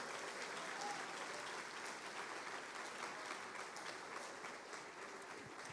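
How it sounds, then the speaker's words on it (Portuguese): Church congregation applauding during a sermon, a dense, continuous wash of many hands clapping together, fairly distant and sustained at an even level throughout. "Você vai aplaudir, aplauda forte"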